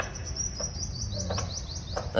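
Several parakeets perched in trees give short, high chirping calls in quick bursts over a low rumbling background, with no talking.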